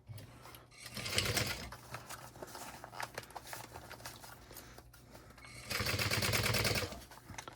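A sewing machine stitches a 1/4 inch seam around a custom fabric pack, with two bursts of rapid needle chatter separated by slower, quieter running and soft fabric handling, heard close.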